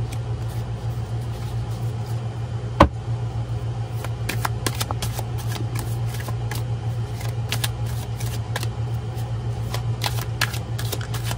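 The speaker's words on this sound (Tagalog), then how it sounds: "balasahin lang muna po natin to" A deck of playing cards being shuffled in quick bursts of riffling and flicking, close and crisp, over a steady low hum throughout.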